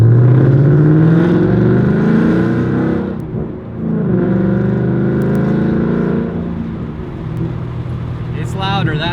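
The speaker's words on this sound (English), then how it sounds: "I'm ready for my first drive in the mufflerless Mustang." A 2018 Ford Mustang GT with its mufflers deleted drives with windows down, the loud engine drone rising and falling through gear changes, with a louder rev toward the end and speech mixed in.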